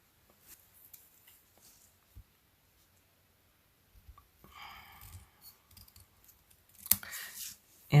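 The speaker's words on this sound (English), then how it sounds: "And then I'm just going to cut this in half." Scissors cut die-cut cardstock in half with sparse, close snips and crisp paper rustles, quiet at first, then a denser run of cutting near the end.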